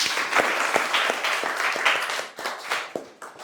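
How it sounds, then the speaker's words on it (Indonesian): Audience applause at a university teaching presentation, a room of people clapping briskly with distinct individual claps audible, close by and tapering unevenly toward the end. "beri tepuk tangan"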